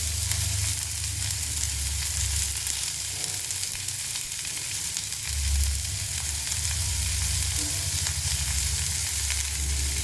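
Grated carrot frying in a pan for a mixed-vegetable paratha filling, with capsicum already in, gives a steady close sizzle that swells and fades with low rumbling stirs throughout.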